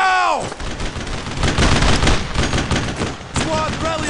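A squad opens fire in the World War II shooter Brothers in Arms, dense rapid rifle and machine-gun bursts crackling continuously and loudly, with a descending whistle at the start and shouted voices mixed in.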